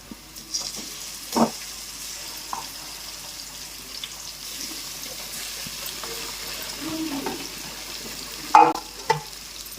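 Onions and chicken cooking in a pan for chicken curry, a quiet low sizzle under a few clanks of a utensil being stirred, with sharper knocks near the end.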